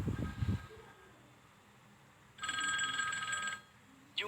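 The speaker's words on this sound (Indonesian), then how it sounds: "Namun tiba-tiba, sebuah telepon berdering." Telephone ringing in a room during a tense scene of a drama, a single bright electronic ring burst lasting about a second after a brief low thump, then quiet.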